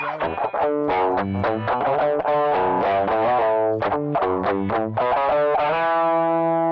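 A gritty, distorted electric guitar with a humbucker, through an amp preset built for a particular song's tone, plays a fast riff of quick picked notes and chords, loud and continuous, ending on a sustained ringing note.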